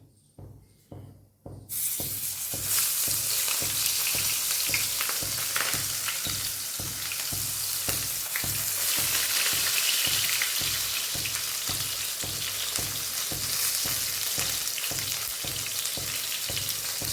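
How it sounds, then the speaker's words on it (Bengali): Eggplant frying in hot oil with spices in a pan, a loud continuous sizzle with steady crackling that begins abruptly after a couple of seconds of faint clatter and carries on without talk. "তেলটা একটু গরম হলে কমিয়ে দিয়ে এবার উল্টে পাল্টে এই মশলার সঙ্গে বেগুনটাকে ভেজে নেব।"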